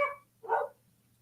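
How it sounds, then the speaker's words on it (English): A dog barks once, a single sharp mid-pitched bark close by, following a fading earlier sound, against a quiet room hum with no one talking. "Apologies for my dog barking."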